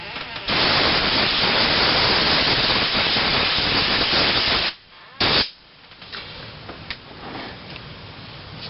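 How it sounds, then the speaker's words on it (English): A loud, steady blast of compressed air from an air compressor hisses for several seconds while blowing out a carburetor, cuts off, then returns in a short burst followed by quieter intermittent puffs. "just take your air compressor and then kind of blow all of it out, just like this."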